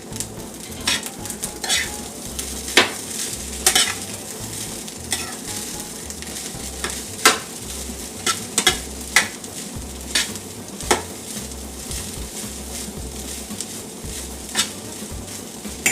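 Ham and egg fried rice with green peas sizzles in a pan while being stirred, with a steady frying hiss broken by repeated sharp clinks and scrapes of a utensil against the pan.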